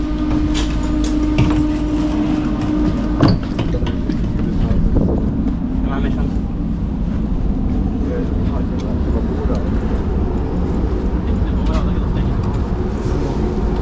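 Steady rumble of a Prague tram in motion, with constant rolling and rail noise, a brief louder clank near the start and a faint voice, heard from inside the car.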